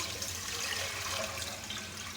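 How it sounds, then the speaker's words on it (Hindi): Water is poured steadily into a pot of sugar to make syrup for Bengali rasgulla, a continuous close splashing pour lasting a couple of seconds with no talk. "4 कटोरी हमने पानी डाला है, 4 कटोरी चीनी डाली है"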